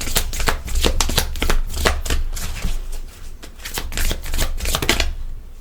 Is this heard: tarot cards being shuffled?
yes